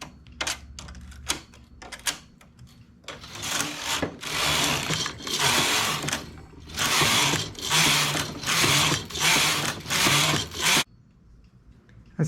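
A sewing machine stitches a double bar on fabric at a small stitch-length setting, running in several steady bursts of rapid mechanical clatter separated by brief pauses, close and fairly loud with no talking.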